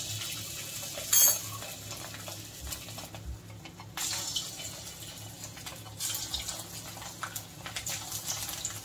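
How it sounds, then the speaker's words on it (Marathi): Vadas fry in hot oil in a kadhai, a continuous sizzle and bubbling close by, with a sharp clink near the start and no one talking. "आता आपण तळायला घेऊया."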